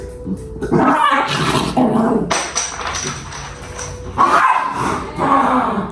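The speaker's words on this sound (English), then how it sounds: "Crazy dog." A dog barks and yips in several bursts close by, mixed in with someone talking over it throughout.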